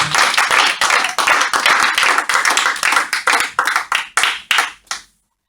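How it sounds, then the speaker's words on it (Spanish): Congregation applause in a church, a dense burst of rhythmic clapping that stays steady and loud before breaking into a few scattered final claps and stopping. "Denle fuerte el aplauso al Rey de Reyes y Señores"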